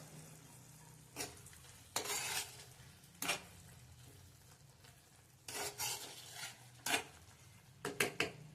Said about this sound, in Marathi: झाकण काढूया, एकदा हलवून घेऊया चांगलं